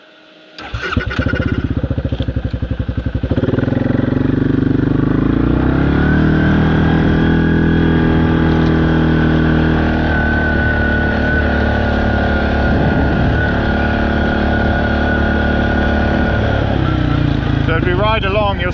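A quad bike engine starts up and pulls away on a bush track, its steady loud motor drone rising as it rides off and holding through to the end with no speech.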